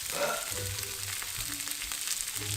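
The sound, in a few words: mini sweet peppers and cherry tomatoes sizzling in a pan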